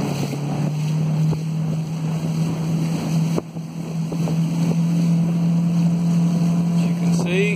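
A 2014 Sun Tracker fishing barge with a 75hp Mercury four-stroke outboard motor runs in a loud, steady drone, with wind buffeting the microphone and water rushing alongside.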